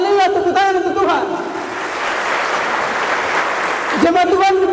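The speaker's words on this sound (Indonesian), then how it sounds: "Haleluya, tepuk tangan untuk Tuhan." Church congregation at a Papuan GPKI service clapping together for a few seconds, a broad steady wash of applause between bursts of a loud amplified voice at the start and end.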